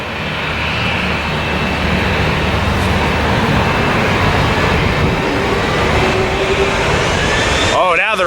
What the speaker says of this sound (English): here's the DHL cargo plane about to take off from Lindbergh Field